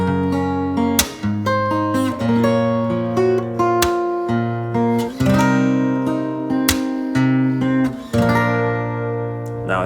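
Acoustic guitar fingerpicked in an advanced pattern, with rhythmic plucked notes, percussive string slaps and ringing bass tones in a steady, close, loud passage with no talking.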